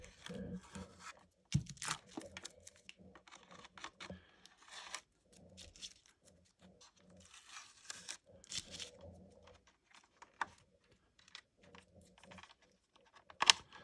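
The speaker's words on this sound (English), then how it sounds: "Watching me just pull masking tape off." Masking tape pulled off a Revell 1/72 Star Wars Razor Crest scale model, soft intermittent peeling and crinkling, with small tweezer clicks, quiet and close.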